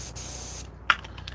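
A spray paint can hisses in a steady, loud continuous blast while a galaxy-style painting is worked on, then cuts off, followed by a couple of faint clicks and a brief rattle.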